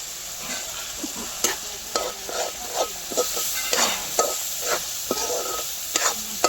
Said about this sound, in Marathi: त्यानंतर ते ना पालक मी बारीक करून घेतला होता ते टाकते